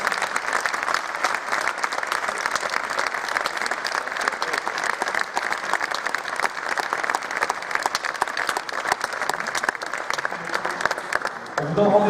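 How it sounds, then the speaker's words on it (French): Audience at a colloquium at the Vendéspace gives the French team a long, even round of applause, a dense wash of clapping holding steady until it thins out near the end. "Un dernier tonnerre d'applaudissements pour les Français."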